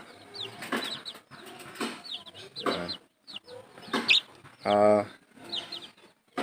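Silkie-cochin cross chickens cluck and cackle in a breeding pen, a series of close, uneven bursts with brief pauses and one longer, louder call.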